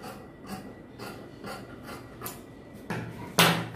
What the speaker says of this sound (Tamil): வெட்டிட்டேன், குடைஞ்சிட்டேன்.